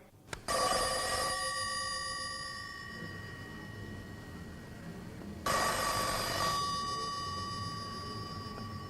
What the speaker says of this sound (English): the next time the telephone rings